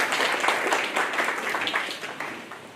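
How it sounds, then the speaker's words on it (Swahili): Audience applause at a Bestrock annual general meeting, a steady wash of hand claps from a seated crowd lasting a few seconds at moderate volume, gently thinning toward the end. "Tumuongeze makofi."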